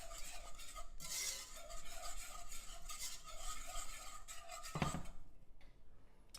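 A sauce with ginger being whisked or stirred in a pot, a steady scraping and swishing that runs throughout at moderate volume, with a sharper clink near the end.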